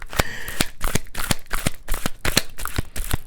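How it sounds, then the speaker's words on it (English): Tarot cards are shuffled on a table in quick, crisp riffles and slaps, a rapid irregular run of sharp papery bursts heard close, with no talk. "There's our shuffle."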